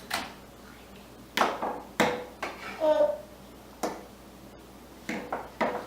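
A knife chops a chili pepper into strips on a cutting board in sharp, irregular taps, a handful of quiet cuts with short pauses between them.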